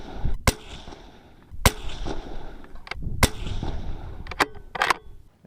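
Rifle shots from a 25GT loaded with 134gr Hornady ELD bullets and Varget powder, fired at a range target. Several sharp, loud reports come in an uneven series over a few seconds, each with a short echoing tail.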